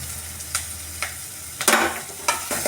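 Spices and ingredients for an egg curry are stirred in a frying pan, with a spoon scraping in regular strokes about every half second over a close, continuous sizzle.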